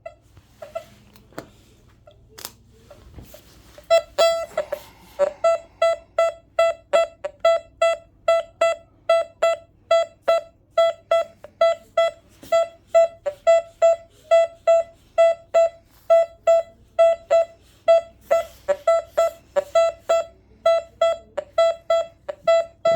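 A Raptor R2 Pro metal detector sounds a fast, steady run of sharp electronic beeps as it is swept over a quarter gold coin, the pulses loud and regular for most of the stretch after a quiet start.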